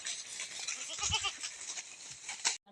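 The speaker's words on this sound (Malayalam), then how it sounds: "ഇതാണ് എൻ്റെ ആട്." A goat bleats once, wavering and nasal, close by over a hissy outdoor background, then the sound cuts off abruptly.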